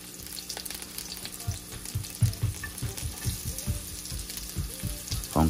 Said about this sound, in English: let's saute for 2 minutes